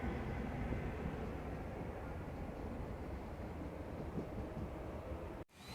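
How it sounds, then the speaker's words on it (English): An NSW TrainLink H set electric train, H13, pulls out of Cowan station with a steady rumbling roar of wheels and motors that holds close and loud, then cuts off abruptly near the end. "H13 is departing platform number 2 for a Hamilton-Newcastle service."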